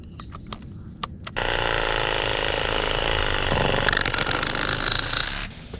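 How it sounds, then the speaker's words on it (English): Battery-operated sawzall cutting tree limbs outdoors: a few sharp clicks, then a loud, steady, close buzzing rattle of the reciprocating blade running continuously for several seconds. "I've got a sawzall, battery operated sawzall here."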